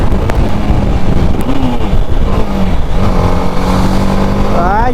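A BMW G 310 RR single-cylinder motorcycle engine runs loud and close with a steady throb, then revs up sharply in the last second, while someone talks over it.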